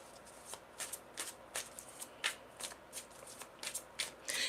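Tarot cards shuffled by hand, a quick run of crisp riffling bursts close up, repeating at an uneven pace with no talk over them.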